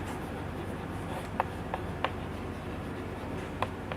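Chalk or marker strokes on a classroom board while a definition is written, a quiet scratching with a few short, sharp taps scattered over a soft, steady background.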